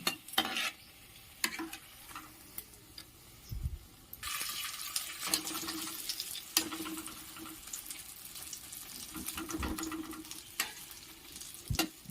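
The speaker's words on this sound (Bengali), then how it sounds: "এভাবে আমি সব কাটলেটগুলো ভেজে নিলাম।" Egg cutlets fry in a pan with a steady close sizzle, broken by sharp clicks and scraping clatters as they are turned, with no talking.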